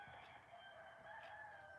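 A rooster crows, a drawn-out strained cock-a-doodle-doo with harmonic tones, heard faintly from a distance with no voices present.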